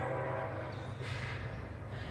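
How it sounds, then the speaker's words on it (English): Low, steady rumble of a train rolling through town at a distance, a continuous drone with no voices. "another train's coming through town. Got a train coming through."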